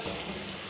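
Potatoes fry with spices in a pan, giving a continuous, even sizzle with no talk over it.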